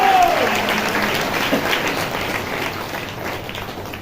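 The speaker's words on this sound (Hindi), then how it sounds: "ताली बजा के प्रभु का धन्यवाद करो" A congregation at a Hindi-language Christian church service claps hands in thanks, a dense, loud, steady wash of applause that slowly eases off.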